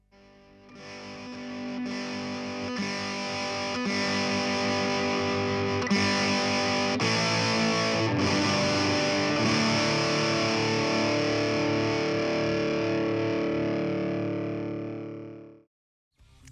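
Boss DS-1 distortion pedal on electric guitar, a thick, sustained distorted tone with struck chords ringing on and fading out near the end, loud and alone with no voices.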